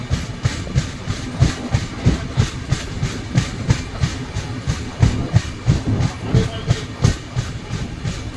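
Bhavnagar to Ahmedabad express passenger train, the 19260 Kochuveli Express, running on rails while slowing through Lakhtar station; a steady rumble with rhythmic clickety-clack wheel beats over rail joints, loud and close from inside the coach.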